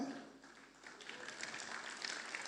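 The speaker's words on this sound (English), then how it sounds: "Yeah, you can clap for me." Audience applause in a large convention hall during a church gathering, a steady broadband wash of many hands clapping at moderate distance for a few seconds, with faint background voices.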